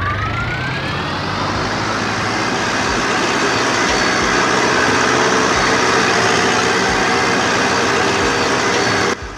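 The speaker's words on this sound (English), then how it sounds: "let me be quiet so you guys can actually hear the engine" A loud, steady tractor engine drone in Farming Simulator with a slowly rising whine runs throughout, without any talking, then cuts off abruptly at the end.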